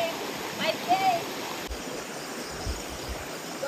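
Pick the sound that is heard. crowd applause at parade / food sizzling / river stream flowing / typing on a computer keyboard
river stream flowing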